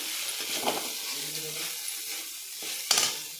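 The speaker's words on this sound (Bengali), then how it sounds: "এখন আমি ঘি মাখা কাঁচা সাবুগুলো দিয়ে দিলাম" Soaked sago coated in ghee goes into a hot pan with a soft, steady sizzle and occasional stirring scrapes, ending in a brief sharp clink of a utensil against the pan.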